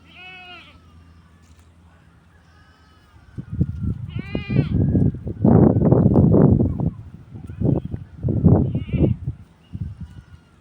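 Several goats bleat in short nasal calls at the start and around four and nine seconds, amid a louder stretch of rustling, chewing-like movement as the animals eat fresh malunggay leaves on a farm.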